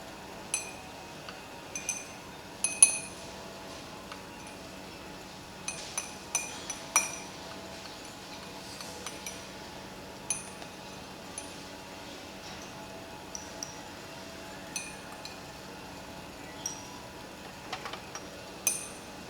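Glass test tubes clink and tick at scattered, irregular intervals in a lab while a starch solution is added, small sharp chimes heard close against a quiet background.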